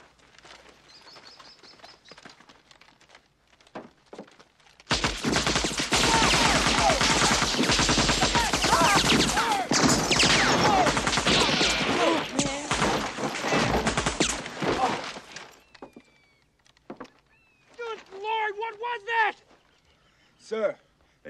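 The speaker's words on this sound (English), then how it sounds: "Sir, it's an AK-47 assault weapon." An AK-47 assault rifle fires a long, loud, dense burst of automatic gunfire lasting about ten seconds, preceded and followed by quieter moments with faint bird chirps and some talk.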